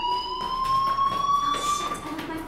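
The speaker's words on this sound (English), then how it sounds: "Hey, do you hear that fire alarm? That means you should be outside." An in-game fire alarm from Life is Strange rings continuously, a bright electronic tone with steady harmonics holding through the whole stretch, moderately loud with faint background activity underneath.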